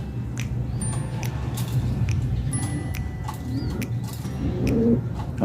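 Racing pigeons recovering after an 80 km training flight coo in low throaty rolls at moderate distance, with scattered clicks, chirps and faint tapping around them.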